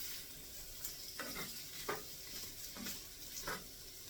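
Beef Polar sausages brown in a hot pan with a steady, soft sizzle, broken by a few scraping stirs of a utensil against the metal. The frying stays close and low in level, with no voices.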